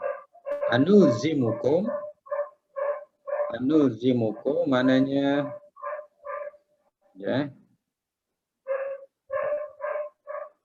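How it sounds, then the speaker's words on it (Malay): A dog barks in short, repeated bursts through a stretch of religious teaching, the yaps spaced out and fairly close, with someone talking between and over them. "tutup kejap bunyi anjing"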